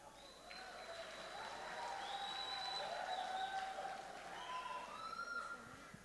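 An audience at a film association speech event cheers and applauds in a sustained, steady wave of clapping and whistling that swells slightly in the middle and carries on throughout.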